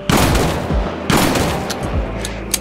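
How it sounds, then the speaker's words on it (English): A sawn-off shotgun fires in the gory video game Gorebox with two loud, booming blasts about a second apart. Each blast is followed by an echoing rumble and a few smaller clacks. "and then now's the sawn-off shotgun."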